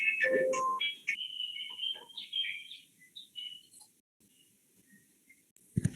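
Short electronic ringtone-like chirps and beeps, bright and high, clustered at the start then trailing off into sparse faint tones.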